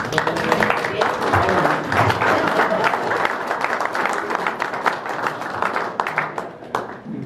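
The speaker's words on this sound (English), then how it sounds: "We need to give him a huge round of applause." Sustained applause from the audience at a member meeting, dense clapping filling the whole stretch and thinning slightly toward the end.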